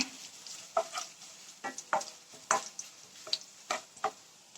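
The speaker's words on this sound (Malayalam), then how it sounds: "ഉണക്കമുളക് ചേർത്ത് കൊടുക്കാം ഇളക്കി കൊടുക്കാം" Dried red chillies fry in a pan while a spatula stirs them, a soft sizzle under a series of distinct scraping taps at an uneven, roughly regular rhythm, close and fairly quiet.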